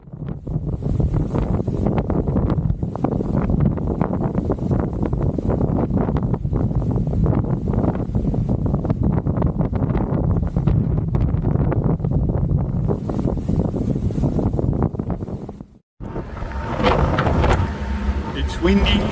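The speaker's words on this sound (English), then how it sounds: "It's windy." Strong wind buffets the microphone in a constant loud roar on a boat approaching the Gullet, with faint engine and water noise beneath and a brief cut near the end.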